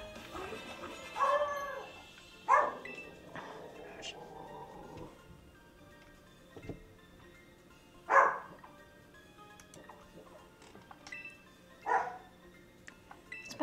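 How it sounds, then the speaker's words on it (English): A dog barks, yips and whimpers in the background indoors, in scattered bursts spread through the stretch, fairly far off and under low room noise. "It's my dog fussing in the background."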